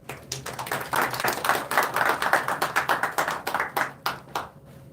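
Audience applause at a Sri Guru Nanak Dev Ji Gurpurab celebration in the NSW Parliament, Sydney, with dense, steady hand clapping from a room of people that swells and then thins out into scattered claps near the end.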